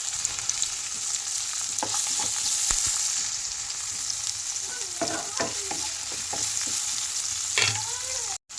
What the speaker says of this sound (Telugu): ఇలా ఎండుమిర్చీలు కొద్దిగా వేగాక